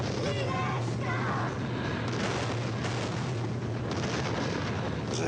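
A film's final explosion sequence roars as a dense, continuous rumbling blast with crackling debris, loud and sustained throughout with no pauses and no talking.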